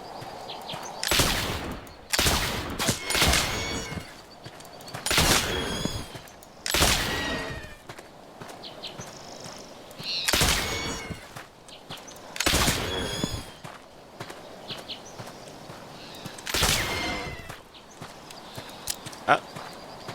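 Sharp, separate gunshots crack at irregular intervals while hunting in an Oregon Trail fur-trade game, each a loud, brief burst with quieter game ambience and light tapping between them.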